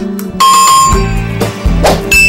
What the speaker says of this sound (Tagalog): Click the notification bell